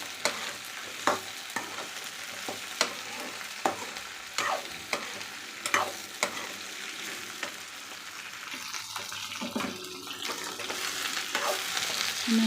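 Sliced okra fries in oil in a pan, giving a steady close sizzle with regular scraping stirs every second or so. No voices.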